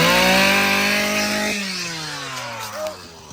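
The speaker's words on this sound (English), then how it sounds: "started off with the buzz of a chainsaw" A chainsaw buzzes loudly at high revs to start a dual slalom mountain bike race in the woods at a bike festival, then drops to a lower idle and fades, with crowd noise behind it.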